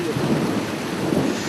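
A thunderstorm at a campsite, with a low rolling rumble of thunder over a constant heavy hiss of rain falling on surfaces, loud and continuous with no speech.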